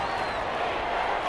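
A Madden 21 stadium crowd roars steadily at a Bears–Lions playoff game, a loud continuous wash of voices with no breaks.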